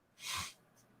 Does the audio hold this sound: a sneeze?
yes